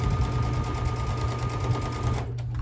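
Sewing machine stitching quilt block pieces together, a loud, steady mechanical whirr with rapid needle rhythm running continuously, then easing off near the end.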